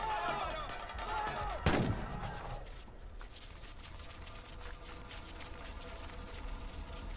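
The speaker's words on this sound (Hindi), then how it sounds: "हवा में क्या गोली चला रहा है?" A loud gunshot cracks once from an Indian action film scene, ringing out over a busy, noisy soundtrack with shouting voices and steady background clatter.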